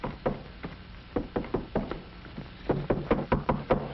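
Someone knocks on a trailer door in a 1951 film, a quick series of firm raps in uneven bursts, close and clear with a muffled room tone behind.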